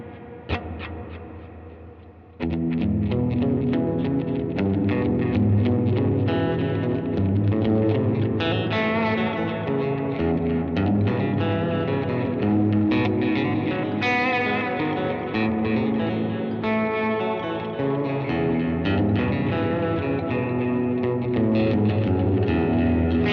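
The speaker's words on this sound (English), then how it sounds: "both the BlueCloud and the MultiTime can do pretty basic delays and reverb effects" An electric guitar plays through Gokko BlueCloud and MultiTime delay and reverb pedals, giving sustained chords and notes with washy echoes and a long reverb tail. It continues loud and steady after a soft start.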